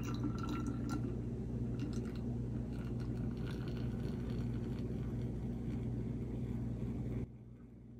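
Piña colada mix poured slowly into a Corona beer bottle, a steady continuous fizzing, foaming pour heard up close for about seven seconds before cutting off, with no talking.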